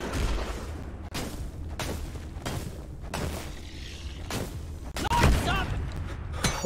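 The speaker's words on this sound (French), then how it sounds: "Oh, j'ai explosé un truc avec une lanterne." Repeated heavy booms and blasts from the video game Deep Rock Galactic, about six separate explosive bursts spaced roughly a second apart, loud and close, with one sharper blast near the end.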